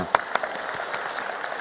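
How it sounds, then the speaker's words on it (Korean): A church congregation claps in thanks to God during a worship service, a dense, continuous patter of many hands filling the room, with a few sharper claps near the start. "우리 하나님께 감사의 박수로 영광 돌리겠습니다"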